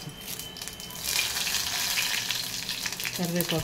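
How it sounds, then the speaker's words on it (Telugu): Cumin, mustard seeds and curry leaves frying in hot oil for a bendakaya egg pulusu, a loud continuous crackling sizzle that surges as the ingredients hit the oil, with a brief voice near the end. "ఆయిల్ వేడైనాక జీలకర్ర, ఆవాలు వేయాలి. తర్వాత కరివేపాకు"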